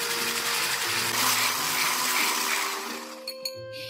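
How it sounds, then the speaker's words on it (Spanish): Electric mixer whipping coconut cream until foamy for a no-bake passion fruit and coconut pie, a loud steady whirring hum that cuts off near the end, followed by a couple of light clinks. "Vamos a batir hasta que espume."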